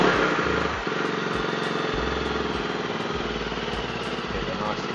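A motorcycle engine runs steadily close by, a throaty idle that briefly revs near the start before settling into an even rumble.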